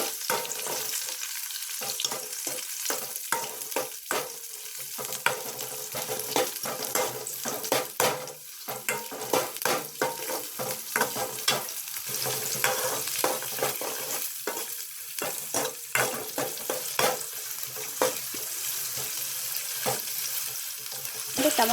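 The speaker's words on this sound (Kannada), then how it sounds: "ಕರಿಬೇವು ಈರುಳ್ಳಿ ಹಾಕಿ ಫ್ರೈ ಮಾಡಬೇಕು." Onions and curry leaves fry with cumin in a pan, a sustained close sizzle laced with frequent clattering stirs and scrapes over about twenty seconds, with no voices.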